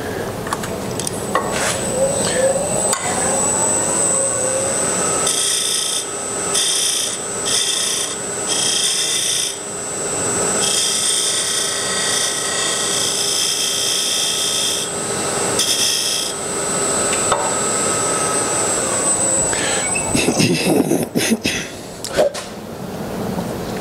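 A wood lathe turns a box elder lid tenon, the tool scraping and rubbing steadily against the spinning wood for the whole stretch, loud and close, with brief pauses and shifts in the cut.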